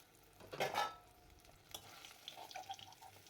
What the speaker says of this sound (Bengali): এদিকে আমার মাছটা এক পিঠ ভাজা হয়ে গেছে উল্টে দিচ্ছি